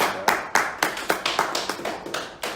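A crowd applauds in a round of claps, a quick irregular patter of hands that keeps going at moderate volume throughout.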